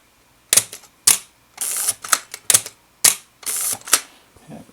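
A camera shutter fires repeatedly on an open-hardware Bluetooth shutter tester set to half-second speed, giving sharp, close, loud clicks in pairs, each open and close spaced about half a second apart, with no talking.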